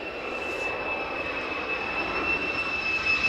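A military jet passes low over RAF Lakenheath, its broad, steady engine roar filling the air and swelling slightly toward the end, with a thin whine riding on top and no voices.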